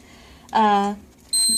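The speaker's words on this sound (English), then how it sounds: "It's finished infusing, the dose is done, and pause the alarm" An infusion pump sounds its alarm as the dose finishes: a brief harmonic electronic tone, then a steady high beep starting near the end, with background murmur between.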